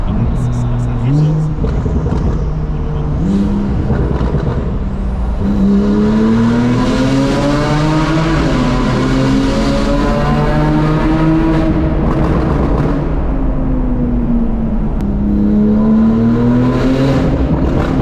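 A Porsche 911 Turbo S fitted with an X-pipe and downpipe exhaust revs loudly and repeatedly, its engine note rising and falling through long sweeps, close and dominant throughout.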